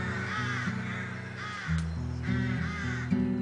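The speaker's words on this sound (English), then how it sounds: "There's the sound of a crow in the background, perhaps." Crow cawing in the background near Montmartre Cemetery in Paris, a few harsh repeated caws at moderate distance over a low hum of street ambience.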